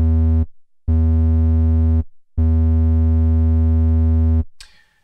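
A single synthesizer oscillator recorded in Cubase plays a steady, harmonically rich sustained tone in three loud held notes separated by short gaps, the last cutting off with a brief noisy tail.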